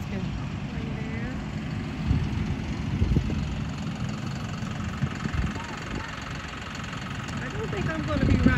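A farm tractor used for hayrides at a pumpkin patch idles with a steady low rumble and light knocking, a continuous mid-distance drone.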